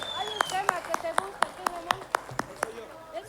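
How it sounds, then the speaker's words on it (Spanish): Steady rhythmic clapping for the newlyweds at a wedding with a live band, sharp evenly spaced claps about four per second, close and fairly loud under a singing or speaking voice. "aplauso maravilloso para los novios"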